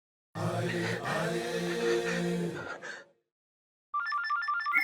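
A phone rings with a tonal, harmonic chime that runs for about three seconds, pauses in silence, then starts again with a brighter repeating ring.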